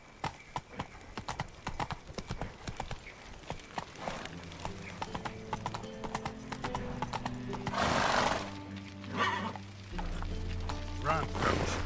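Horse hooves clip-clop at a steady gallop in a video game, busy and continuous with a whinny partway through, while a voice talks over the hoofbeats.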